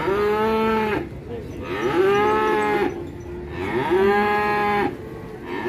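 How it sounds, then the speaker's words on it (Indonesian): A severely emaciated cow moos three times in long, drawn-out calls with short pauses between them, loud and close, with no talking. "Sapinya super kurus guys."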